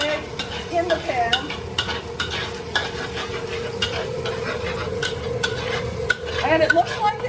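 Egg scrambling in a frying pan for fried rice: a loud, continuous sizzle runs under repeated scraping and tapping of a utensil against the pan, with a few brief clatters near the end.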